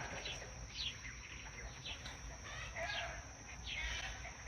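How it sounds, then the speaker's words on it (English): Chickens on a homestead cluck and call intermittently at a moderate distance, short bright calls scattered over a faint, steady outdoor background. "I hear chickens."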